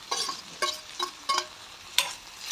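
Peanuts, curry leaves and tomato being stirred in a frying pan, giving four short scraping, sizzling strokes at a steady pace, close up with no voices.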